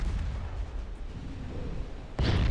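Naval guns fire in the warship strategy game Ultimate Admiral Dreadnoughts, a low rumbling roar that ends in a sudden loud, heavy blast.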